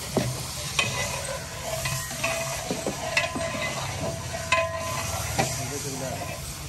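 Chicken for a large batch of biryani fries in a big pot while being stirred, with steady sizzling throughout and repeated scraping clanks of the stirring utensil at irregular intervals.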